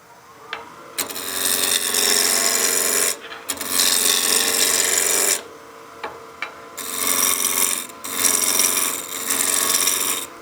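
A wooden block for a witch head spins on a lathe while a chisel cuts into it, giving loud, raspy scraping bursts in several separate passes, each broken by short pauses.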